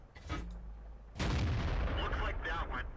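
A KV-5 heavy tank in World of Tanks fires its gun: one sharp, booming blast lands suddenly after a low idling rumble, then its echo hangs loud to the end.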